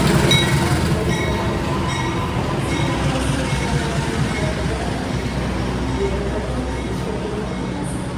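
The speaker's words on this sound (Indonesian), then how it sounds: "Manahan ditarik oleh lokomotif CC 204 teman-teman." A CC 204 diesel locomotive hauls an Indonesian passenger train with a continuous, heavy rumble and steady rolling hum, unbroken throughout.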